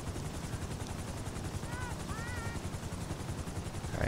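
In the GTA 5 video game, a helicopter thrums steadily at a distance under a busy, noisy game mix. A faint voice talks over it.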